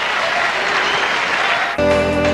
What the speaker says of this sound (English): things are all tied up here as mother Heidi Graf applauds the second set effort of her daughter Steffi